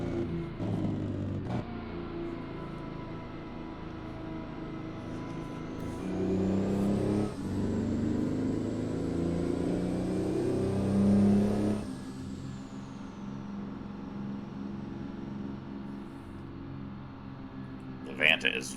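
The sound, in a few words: Peterbilt 389 truck driving and shifting in American Truck Simulator video game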